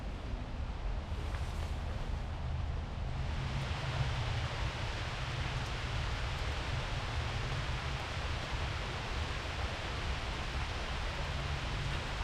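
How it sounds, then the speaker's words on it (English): Steady rain patters and hisses on a tarp, a dense, even wash of noise that continues throughout with no voices. "Here's the rain."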